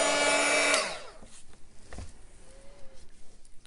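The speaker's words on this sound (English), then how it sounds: "in case you didn't hear me while that heat gun was going" A heat gun drying paint blows a loud, steady whooshing roar for under a second, then cuts off and winds down, leaving a quiet room with faint handling noises.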